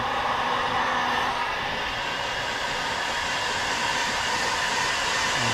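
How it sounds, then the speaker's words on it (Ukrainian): A steady, loud blowing whir of a hair dryer heating a plastic wheel-arch liner on a 2025 BYD Song Plus runs continuously, close by and unbroken, with no voices. "Нагреваем его чуть-чуть феном."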